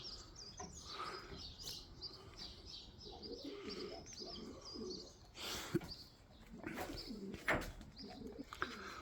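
Birds coo and chirp in the early morning, pigeon or dove calls mixing with scattered tweets, moderately near but quiet, with no talk.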